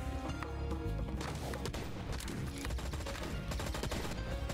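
Spread shot weapon firing repeatedly in the Monsters and Monocles video game, a dense run of loud overlapping gunfire bursts layered over busy game music and effects throughout.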